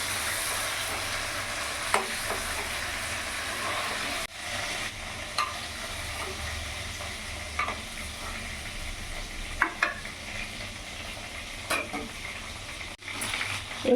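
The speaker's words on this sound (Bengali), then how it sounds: "চিকেনটা আমি দেখতে পাচ্ছ ফ্রাই করে নিয়েছি" Chicken frying in a pan with oil gives a steady, fairly quiet sizzle throughout, broken by a few sharp clinks and stirring clatters, with no one talking.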